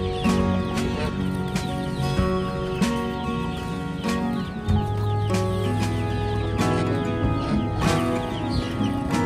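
Several hens clucking close by as they come in to peck at feed, busy overlapping clucks and short calls against a steady droning hum, with no one talking.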